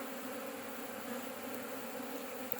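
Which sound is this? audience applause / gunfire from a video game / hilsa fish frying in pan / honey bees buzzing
honey bees buzzing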